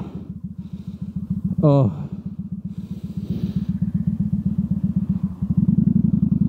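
A Kawasaki VN900 Vulcan motorcycle with a freshly changed clutch idles close by in a steady, loud, throbbing rumble that swells slightly near the end, with a brief exclamation from a man partway through.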